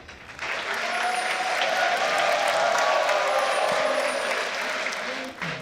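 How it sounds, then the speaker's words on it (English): A crowd applauds at a League of Legends esports grand final, the ESL Benelux Championship, with sustained dense clapping and cheering that swells and holds, then fades near the end, a voice faintly audible underneath. "Crowd, let's give it up maybe one more time for these two teams"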